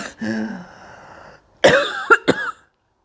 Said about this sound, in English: Kind of cough.